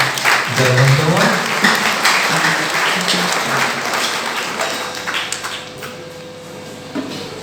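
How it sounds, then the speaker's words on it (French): Audience applause closing a church talk on divorce and remarriage, a dense burst of clapping with voices over it at the start, slowly thinning out toward the end. "Pour applaudissements, c'est notre dernier intervention"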